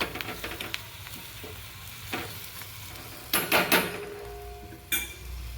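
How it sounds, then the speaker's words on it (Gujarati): A spiced gram-flour mixture sizzles softly in hot oil in a home kitchen while a spoon stirs it, scraping and clinking against the pan in a few sharp bursts. "આપણો તેલમાં ચડી જશે મસાલો બધો,"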